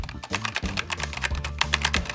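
Rapid typing on a Razer Huntsman V3 Pro full-size keyboard, a fast, uneven stream of close, crisp key clicks with a low thock under each stroke.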